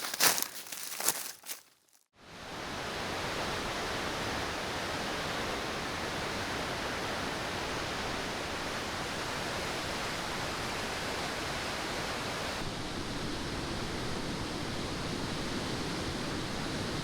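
Waterfall at the Falling Fork, a steady broadband rush of falling water that holds constant and loud for most of the stretch after a brief burst of handling noise and a moment of quiet at the start.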